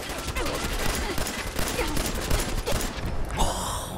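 Rapid 10mm pistol shots crack out in a fast, steady string from Fallout 4, close and loud over combat noise, ending with a brief hiss.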